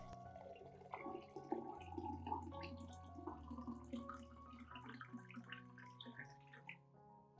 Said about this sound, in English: Add about 500 milliliters of warm water.